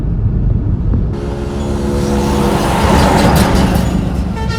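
Steady road traffic rumble heard from inside a moving car on a trip to Coimbatore, with engines droning and vehicles passing alongside, loud and continuous without speech.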